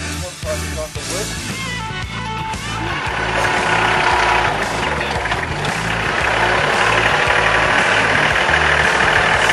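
A farm tractor engine runs steadily close by, a loud, continuous low rumble with a throbbing mechanical beat that holds even throughout.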